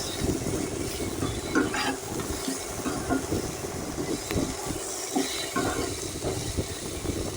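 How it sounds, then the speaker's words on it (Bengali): Vegetables being stirred with a little cumin powder in a pan while cooking Bengali shukto, a steady scraping and gentle sizzling that carries on throughout, with occasional louder knocks of the spoon against the pan and no talking. "এবার আমি এটাকে ভালো করে একটু সবজির সঙ্গে নাড়াচাড়া করে নিচ্ছি"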